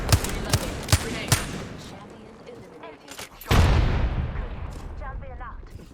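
Apex Legends battle with a rapid string of sharp gunshots, then a heavy booming grenade blast and rolling debris, a game voice calling out near the end.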